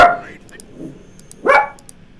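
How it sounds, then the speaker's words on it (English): A dog barking inside a hotel room, two sharp barks about a second and a half apart, close and fairly loud, with quiet room noise between them. "my dog is here in the hotel, and she is now ferociously guarding our little cottage from whatever terrifying invasion is about to come"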